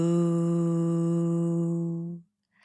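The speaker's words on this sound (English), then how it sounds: "on the exhale, you make a long, low sound like this." A long, steady, low hummed "voo" tone sung on one breath, holding for about two seconds before fading out, followed by a soft breath.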